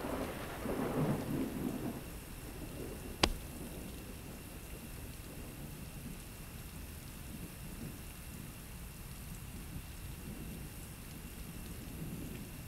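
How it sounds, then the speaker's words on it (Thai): Heavy rain pours steadily, with one sharp, loud thunder crack early on, followed by a continuous dense patter and low rumble throughout. "เรากลับบ้านไม่ได้จนกว่าฝนจะซา"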